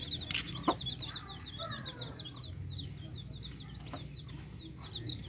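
Rapid, repeated high chirping calls from captive wild quail, soft and continuous over a low background hum, with a few sharper knocks.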